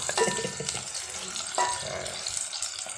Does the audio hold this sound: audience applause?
no